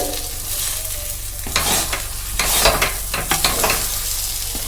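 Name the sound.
stirring and sautéing lentil dal in a pan for dhoka dalna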